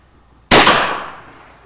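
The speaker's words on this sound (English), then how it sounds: "this is Nicholas fixing to shoot a gun for the very first time" A single gunshot from a first-time shooter, one sharp loud report close by with a decaying echo ringing out over about a second, followed by the start of another sound.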